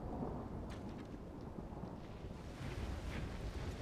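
Rain and thunder in the video game Third Age Total War, a steady dense wash of rainfall with a low rumbling undertone running throughout, fairly faint and without talk.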